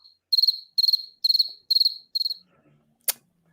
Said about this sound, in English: he did crickets chirping